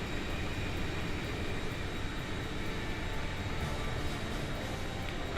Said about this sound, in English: The transport plane is ready for an emergency landing.